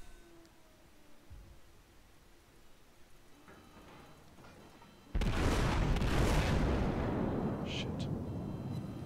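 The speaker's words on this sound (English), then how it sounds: "These are the most inaccurate guns on the planet." Warship guns firing in World of Warships: after a quiet stretch, a heavy booming salvo erupts and rolls on as a loud rumbling roar, with faint voices talking early on.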